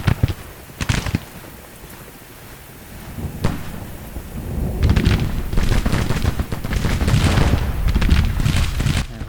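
Battle gunfire in the Grand Tactician: Civil War video game: heavy thudding volleys and booming blasts, with a few sharp cracks early and then a dense, sustained rumble of firing that builds and carries on for several seconds.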